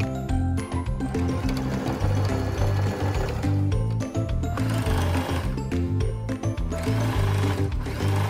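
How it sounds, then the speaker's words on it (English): A sewing machine stitches around the edges of an envelope-style pillowcase, running in a loud, close, steady mechanical whir with short pauses and restarts, no talking. "Now I'm going to sew all around this and then sew the flap."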